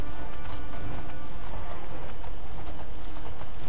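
A horse galloping in the video game Oblivion, a steady fast drumming of hooves, loud and close, running continuously throughout.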